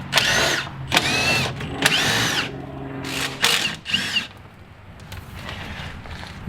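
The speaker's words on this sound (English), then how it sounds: "we'll have to drill a few extra holes for the new setup" A power drill bores mounting holes for a skid plate on a CF Moto Z-Force 950 UTV, with several short, close whining bursts in quick succession before fading into quieter workshop noise.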